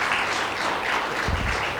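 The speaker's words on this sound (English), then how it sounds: "Applause for question 3 for all of our candidates." Audience at a Tulare County supervisors District 4 candidate forum applauding, a short burst of steady clapping from a room of people, moderately loud and heard on its own.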